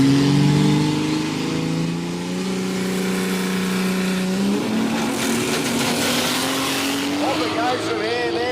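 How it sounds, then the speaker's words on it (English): Barra-engined Datsun 1600 drag car at a quick street meet, a loud engine holding steady revs before surging hard on launch and fading slightly, with a commentator talking over it. "Our Sydney boys with the Barra-powered Dado 1600"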